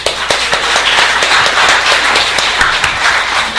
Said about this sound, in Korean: 축하의 박수 그리고 앞으로 여러분들이 활약을 기대한다는 박수로서 보내주시고